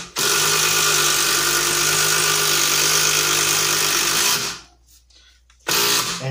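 A Makita XDT13 cordless impact driver runs loud and continuous for about four seconds, stops briefly, then starts again.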